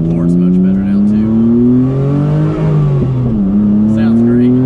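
A Rossion Q1 supercar engine revving hard, loud and close, with rising and falling engine tones through gear changes and a brief dip before climbing again.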